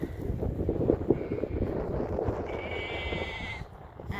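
Sheep bleating on a farm, a few calls carrying over steady wind noise buffeting the microphone, with a thin tonal whine near the end.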